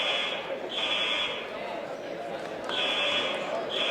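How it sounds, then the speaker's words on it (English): A fire alarm at a high school wrestling meet, set off by a popcorn machine, sounds as a loud sustained buzzing tone that cuts off and restarts in repeating pulses, echoing through the gym. "we've just been notified that it's the popcorn machine causing the fire alarm to go off"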